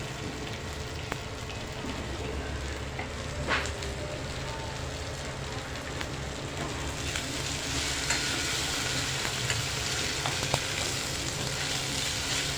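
Okra (bhindi) frying in a pan on a gas stove, a steady close sizzle with occasional stirring scrapes, continuous and even throughout.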